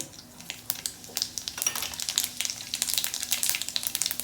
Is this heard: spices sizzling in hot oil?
yes